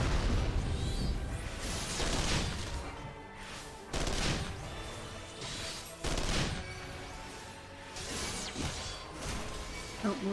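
Gunfire in a Final Fantasy XIV battle strikes the player, with repeated bursts of shots and crashing impacts layered over dense game sound effects through the stretch.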